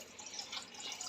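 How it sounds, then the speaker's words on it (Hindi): Water trickling and dripping into a bowl of sour tamarind chutney, a soft, steady splashing pour heard up close without any talk. "इसके अंदर हम पानी डालेंगे।"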